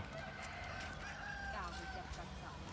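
A rooster crows in a long drawn-out call, fairly close, in a backyard, over a steady hum of background noise.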